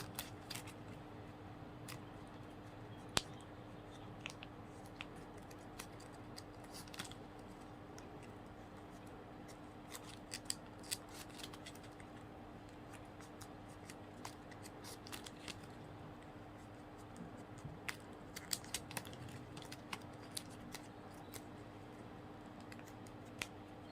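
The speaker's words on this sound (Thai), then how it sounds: "เสร็จแล้วเราก็ตัดปลายดิบิ้นทิ้งค่ะ" Scissors snip off the loose ends of ribbon on a folded lotus-flower coin decoration, producing sparse, soft, close clicks and cuts spread over a quiet room tone, with no speech.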